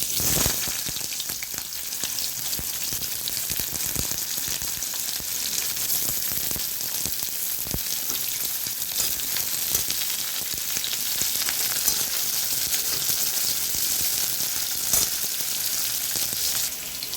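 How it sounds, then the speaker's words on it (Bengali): Onions fry in hot oil in a home kitchen, a constant close crackling sizzle that holds evenly for the whole stretch with no talk. "তো পেঁয়াজ ভাজা হয়ে গেছে বন্ধুরা"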